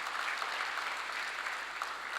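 Steady applause from an audience at a formal lecture, a dense continuous patter of clapping held at an even level throughout without voices breaking through.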